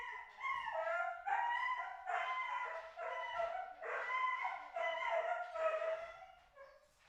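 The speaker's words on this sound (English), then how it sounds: "The dog, I was wondering why he was whimpering." A dog with its paw caught in a crate whimpers and whines in a series of high, drawn-out plaintive cries, repeated several times in close succession, heard alone without talk.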